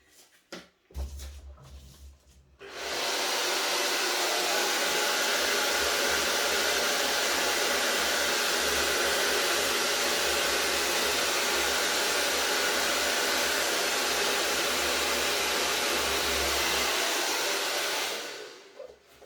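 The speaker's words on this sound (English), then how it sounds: "with my hairdryer, I will just take that over the edge a bit" A hair dryer blows with a loud, steady whoosh for about fifteen seconds after a few brief clicks and rustles, then cuts off.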